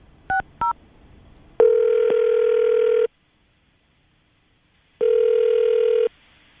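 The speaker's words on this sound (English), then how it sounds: "I'm going to dial the number now, see if we can get her on the phone" Two short touch-tone key beeps, then a steady ringback tone sounding twice with a silent gap between, loud and clean with no voices over it.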